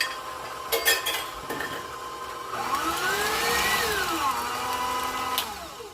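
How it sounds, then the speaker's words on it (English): Scraping along the sides of a mixing bowl of apple cinnamon cheesecake batter, with clattering utensil knocks early, then a steady scrape and a rising-falling whine of a running mixer close by, no talking. "Just gotta scrape down these sides here"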